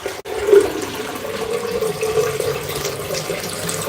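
Water is poured steadily into a flower box that holds a fresh flower delivery, a continuous splashing, liquid rush close by that runs for the whole stretch, with a short break near the start and no talk over it.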